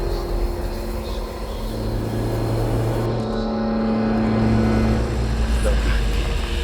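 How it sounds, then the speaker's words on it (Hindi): A car speeds away fast in a cartoon, a sustained engine drone with steady tonal hums that holds and swells slightly louder toward the end, with no voices over it. "वो गाड़ी तेज स्पीड से भगाता है।"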